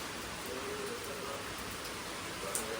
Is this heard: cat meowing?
no